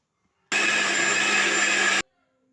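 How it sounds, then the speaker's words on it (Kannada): A mixer grinder whirs loud and steady for about one and a half seconds as it grinds soaked lentils and flattened rice, starting and stopping abruptly with silence on either side. "ಇದು ಮಿಕ್ಸರ್ಗೆ ಹಾಕಿ ರುಬ್ತೀನಿ ಈಗ"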